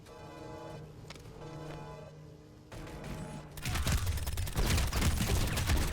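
Gunfire in the online shooter Planetside 2, a dense burst of rapid shots that swells loud partway through, layered over steady game background noise, with no talking.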